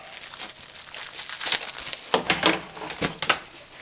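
Close plastic packaging crinkles and crackles as it is peeled off a Golden Rod 45 10-meter/CB radio antenna, in irregular bursts that grow louder, with several sharp rustles near the end and no talking.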